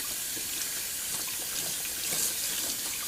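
Running tap water rinses a synthetic shaving brush, a steady close-up hiss of water splashing into a sink, continuous and moderately quiet.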